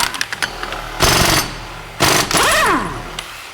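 An impact wrench hammers at a wheel axle nut in two loud bursts about a second apart, with a falling and rising whine between them in a workshop.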